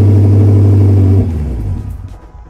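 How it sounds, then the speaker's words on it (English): A Jaguar XF-RS engine fires up: a loud, steady low drone for about a second, then a cough into a rougher rumble that gradually settles and fades, with no talking. "let's turn the car on a second"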